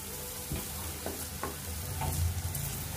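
Capsicum and other vegetables frying and being stirred in a pan for a spicy Indian-style red sauce pasta, with a steady sizzle and a few scraping stir strokes, close and alone without talk.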